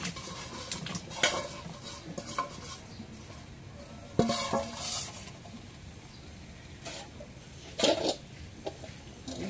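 Potatoes tumble into a wok and get stirred, with scattered clinks and scrapes of a utensil against the pan and a faint sizzle, quiet and close with no talk.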